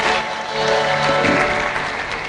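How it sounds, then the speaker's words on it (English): A crowd applauding at a university convocation and founders' day ceremony, a sustained dense roar of clapping at even loudness with faint musical tones underneath. "Can we appreciate him one more time with a round of applause"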